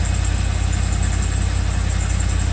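A hot Land Rover Discovery 2 engine idles in park with a steady, even low rumble and constant mechanical hum, loud and close, with no talking over it.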